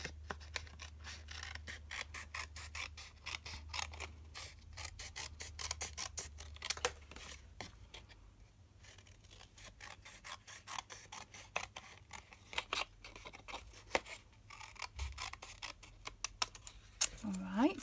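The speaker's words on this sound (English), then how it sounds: "So just follow the score line and trim along and cut off this 2 side tabs." Scissors snip along a score line on cardstock to trim off two side tabs, making rapid, irregular close-up cutting clicks and rasps in repeated bursts.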